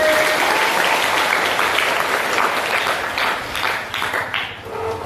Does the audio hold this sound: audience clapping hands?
yes